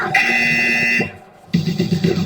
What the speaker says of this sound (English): We got a buzzer